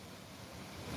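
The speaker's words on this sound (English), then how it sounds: "yeah, it's been very windy." Gusty outdoor wind buffets the microphone during wet, rainy weather, a steady loud rumbling roar that swells slightly toward the end, with no voices.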